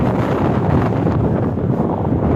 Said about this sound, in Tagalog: Grabe ko sugat sa hangin eh.